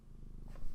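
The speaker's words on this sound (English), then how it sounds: "Maybe you can hear Artemis purring up a storm right now." Artemis the cat purring up a storm, a steady low pulsing rumble right by the microphone, quiet but continuous and growing slightly louder, alone without speech.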